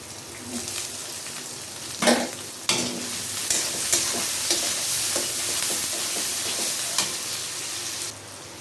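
Onion and two pieces of frozen garlic sizzle loudly in a pan while being stirred, with scraping strokes and clinks of the spatula against the metal over a constant frying hiss.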